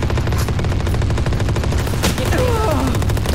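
Rapid machine-gun fire from the Odin in Valorant, a dense continuous burst of shots running throughout with other game sounds mixed in.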